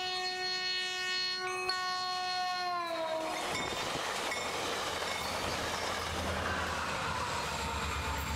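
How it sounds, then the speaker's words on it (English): A train on a coastal rail line sounds a long, loud horn blast that then gives way to the rumbling roar and clatter of the cars passing close by, continuing steadily to the end. "the shot of the infamous train coming by"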